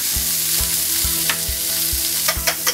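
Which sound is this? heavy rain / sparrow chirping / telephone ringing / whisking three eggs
whisking three eggs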